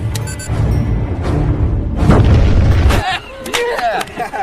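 A deep, booming grenade explosion in water in a shark film rolls out and fades, followed by scattered splashing and rushing sounds.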